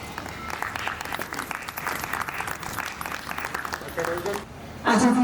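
Audience applause welcoming a guest at an Independence Day celebration on 15 August, a broad wash of clapping filling the room, swelling louder near the end.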